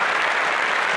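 Steady applause from an audience, a dense continuous wash of clapping hands lasting about a second at even loudness, with no voices standing out.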